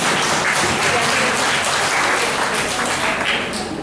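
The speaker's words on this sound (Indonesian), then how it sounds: "Kita beri tepuk tangan untuk mereka." Steady, full applause from a seminar audience at a parenting event for a Catholic school group in Pemalang, a dense wash of many hands clapping at once that fades slightly toward the end, with no talk over it.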